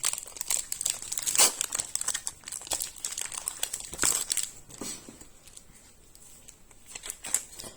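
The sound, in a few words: opening Pokémon card booster packs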